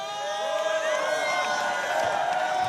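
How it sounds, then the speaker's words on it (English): Arena crowd at a Mayweather fight in the UAE cheering steadily, a dense roar of voices with whoops rising above it, sustained and fairly loud throughout. "This crowd is truly amazing."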